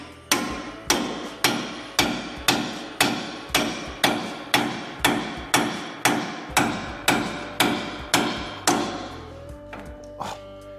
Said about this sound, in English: now we're gonna hit it with a hammer